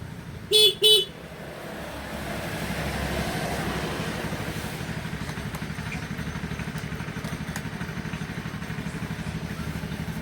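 Two short horn beeps from a Honda Beat FI motorbike near the start, followed by a steady low engine idle that runs to the end.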